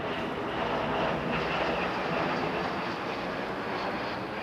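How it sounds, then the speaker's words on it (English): A jet aircraft roars steadily, a broad continuous rushing drone that holds at an even, fairly loud level throughout with no voices over it. "Is that my jet?"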